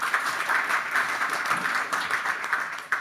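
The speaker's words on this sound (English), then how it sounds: "this really deserves an applause" Audience applause at a panel discussion on Ukrainian media and journalism, a steady wash of many hands clapping at moderate distance, sustained throughout with no voices.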